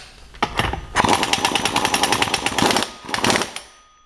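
A pneumatic impact gun runs a crankshaft bolt down to roughly 40–50 foot-pounds on an engine, hammering in three loud, close rattling bursts: a short one, a long sustained run, then a brief final burst.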